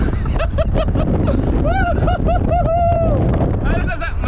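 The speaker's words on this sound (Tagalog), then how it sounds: "kasi sobrang hangin dito" Strong wind roars and buffets the microphone continuously while people riding in the back of a pickup truck talk loudly over it, close and outdoors.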